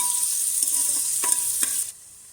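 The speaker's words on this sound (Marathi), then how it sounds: "तेल गरम झालं की त्यात आपण बारीक चिरलेला कांदा घालून घेऊ" Finely chopped onion sautés in hot oil for mutton sukka, a bright close sizzle with a few stirring clicks that cuts off abruptly near the end.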